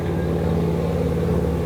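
A motorcycle engine drones past outdoors near a campsite, a loud, continuous low rumble that holds steady throughout without any speech.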